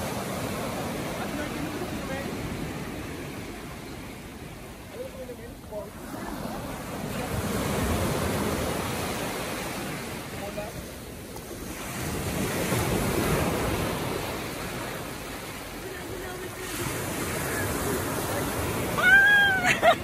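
Ocean waves wash ashore in slow, rolling surges under steady wind, with faint voices in the background, at Ubara Beach, Japan.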